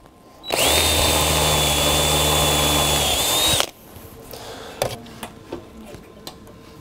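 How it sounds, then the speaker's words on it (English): A power drill bores into a metal table leg for an octagonal end table, a loud steady whine lasting about three seconds before stopping abruptly, followed by faint clicks and handling noises. "Now I'm gonna drill out the main section."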